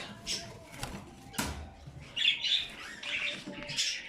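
Japanese finches and painted finches in a cage give several short, bright chirps and squeaky calls at close range, with flutters and rustling between them.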